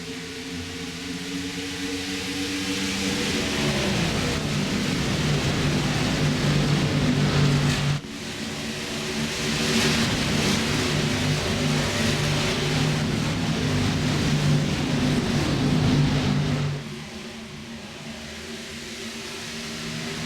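Race car engines in the iRacing video game at Indianapolis, a steady droning roar of several cars at full throttle. The pitch shifts and the roar drops in level near the end.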